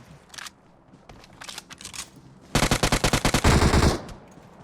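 Automatic weapon fire in the mobile battle royale game PUBG Mobile: scattered distant shots first, then a loud rapid burst of evenly spaced rounds lasting over a second, followed by a dense sustained volley.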